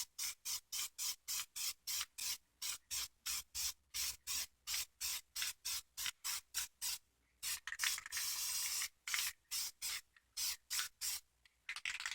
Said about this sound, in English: I'm gonna use a little bit of our spray paint